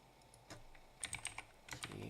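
Typing on a computer keyboard while coding in Godot: sparse, quiet key clicks, with a quick burst of four or five taps in the middle and a few more near the end, no talk.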